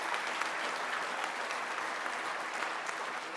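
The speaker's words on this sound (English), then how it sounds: "Let's applaud for that." Sustained audience applause at a union leadership panel for young steelworkers, a dense, steady wash of many hands clapping at even loudness throughout.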